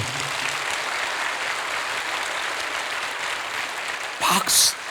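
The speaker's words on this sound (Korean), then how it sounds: "박수까지 할 건 없는데." Congregation applause at a Korean church's thanksgiving night service, a steady broadband wash of clapping filling the room for several seconds before a brief louder burst near the end.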